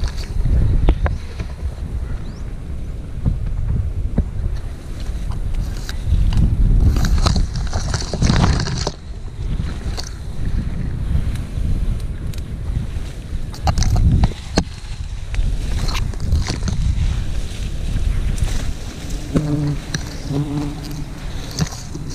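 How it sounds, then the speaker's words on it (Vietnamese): Strong wind buffets the microphone outdoors in rural Kiên Giang during honey harvesting from bee nests, a continuous roaring gusty rush with no speech. "Gió quá trời gió."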